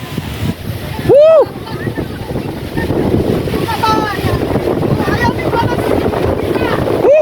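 Heavy typhoon wind rushes and batters the microphone continuously, with people's voices faintly heard through the roar.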